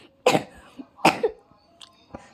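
A feverish child coughs in a few sharp, separate bursts, close and fairly loud, with quieter pauses between them while a Stumble Guys game plays.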